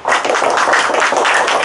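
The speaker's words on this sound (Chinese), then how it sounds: "为星辰掌声一下" A middle-school math class claps for a student, with a dense, even patter of many hands close by filling the whole stretch.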